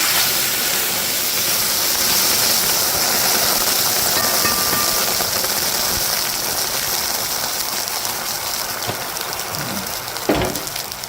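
Water poured into a hot dal tempering of dried red chillies and curry leaves, giving a steady loud steamy sizzle and hiss that fades slightly toward the end, with a brief clatter near the finish.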